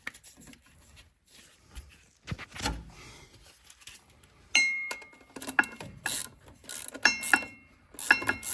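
Ratchet clicks while undoing propshaft bolts on a 2012 Range Rover L322 4.4 TDV8, a burst of rapid metallic ratcheting in short bouts after some quieter handling and knocks, close and fairly loud.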